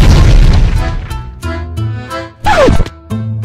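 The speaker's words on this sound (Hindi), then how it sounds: "ये ग्रेनेड तो मेरे पास बड़ा है और फटने वाला" A grenade blast in a real-life PUBG-style comedy skit: one loud, deep boom at the start that fades, followed by cartoonish tones and a falling whistle-like sweep.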